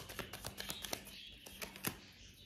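Tarot cards being shuffled close by, a quick run of crisp, dry riffling snaps and flicks at a quiet level, with no talking.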